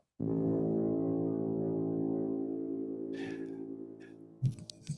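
A single long, loud blaring horn blast holds steady for several seconds, then fades, followed by a couple of short clattering noises.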